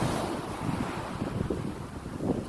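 Rough sea waves break along the shore at Yeşilköy beach, a steady wash of surf with wind buffeting the microphone and soft rolling surges, moderately loud and with no voices.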